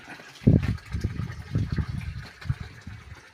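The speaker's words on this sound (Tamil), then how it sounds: "தண்ணி வந்துட்டுருக்கு" Water gushing from an automatic farm irrigation outlet, close and fairly faint, with uneven splashing surges over a few seconds.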